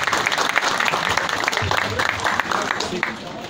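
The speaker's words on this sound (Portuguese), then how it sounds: "Vamos aplaudir," Crowd applause at a civic parade in Holambra, a continuous mid-level wash of clapping mixed with crowd noise and speech.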